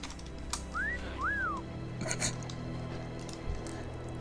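A World of Warcraft character's whistle emote gives two quick rising-and-falling notes, clear over a quiet background with faint keyboard clicks.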